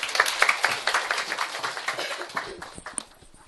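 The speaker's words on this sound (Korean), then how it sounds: "박수 한번" An audience at a Korean English-teacher exam strategy lecture applauds, a dense burst of many clapping hands that slowly thins out and fades over a few seconds.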